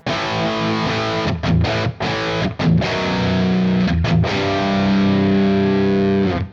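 Heavily distorted electric guitar root-and-fifth power chords, loud and dense, struck in short choppy bursts with brief gaps, then held as a long sustained chord.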